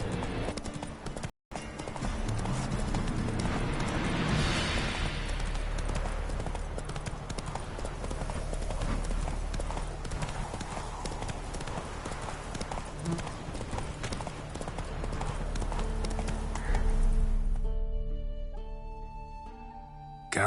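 Steady, rhythmic hoofbeats of Roach, the horse, galloping in The Witcher 3: Blood and Wine, continuing for the whole stretch over a dense bed of game ambience, easing off briefly near the end.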